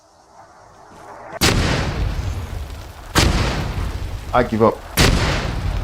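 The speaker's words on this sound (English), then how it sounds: "Right, it's mortars." Mortar fire in the Arma 3 war game: three heavy booms roughly two seconds apart, each with a rolling decay, and someone speaks briefly between them.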